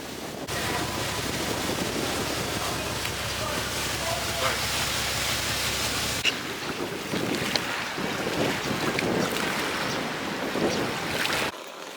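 A tourist boat crossing the water toward a seaside shrine near Hiroshima, Japan: a steady engine rumble and the wash of water, with heavy wind buffeting the microphone throughout until the sound cuts out near the end.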